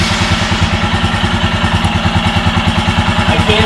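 Royal Enfield Himalayan single-cylinder engine idling with a steady, fast, even thump, close and loud, a continuous throb without talk.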